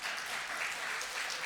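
A church congregation claps to welcome a visiting pastor to the pulpit, giving a steady, dense wash of applause that holds level throughout with no voices on top.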